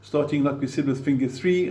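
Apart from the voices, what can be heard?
No distinct noise like a dog, phone or traffic.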